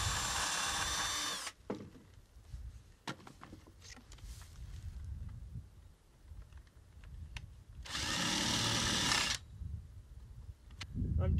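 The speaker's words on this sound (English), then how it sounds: "I'm doing a countersink because I don't want the heads of the screw to stick out" Power drill countersinking screw holes in wood while building a cold frame planter, two loud whining bursts at the start and near the end, separated by quieter handling clatter.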